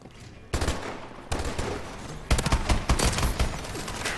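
Bursts of IMR assault rifle fire in the shooter game Advanced Warfare: a short volley, a longer sustained stretch, then a loud run of rapid shots, close and punchy with no talking.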